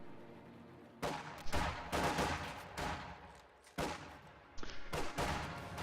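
Rifle volleys from infantry in a World War II real-time strategy game crackle in repeated bursts, dense layered gunfire with a few brief pauses between volleys.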